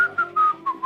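A person whistles a simple tune in several short, clear phrases with brief gaps, close and alone with no talk.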